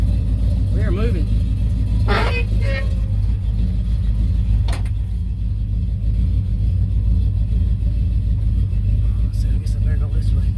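A 1971 Chevrolet El Camino, once a high school car, rumbles steadily while driving, its low engine drone loud and close throughout, with a few brief voices rising over it.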